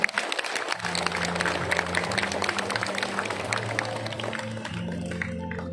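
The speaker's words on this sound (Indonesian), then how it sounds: "Mari kita beri tepuk tangan yang meriah untuk kita semua" Applause from the congregation after a Stations of the Cross tableau at St Lukas parish church in Pemalang, fairly quiet and steady clapping over a sustained low hum, tapering toward the end.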